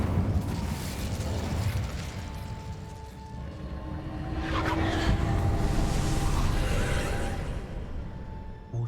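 In the video game Hogwarts Legacy, an Incendio fire spell bursts out as a roaring whoosh of flame, swelling midway and then fading over a rumbling game soundscape.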